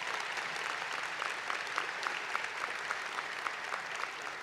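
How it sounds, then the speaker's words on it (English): An audience at a winter commencement ceremony applauds steadily, a fairly faint, even patter of many hands clapping throughout. "Let's give them a round of applause."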